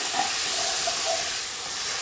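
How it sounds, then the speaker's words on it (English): Garlic and ginger paste frying with onions in a pan, a steady close hiss and sizzle that holds evenly throughout with no talking. "Now I'm going to add my garlic and ginger paste."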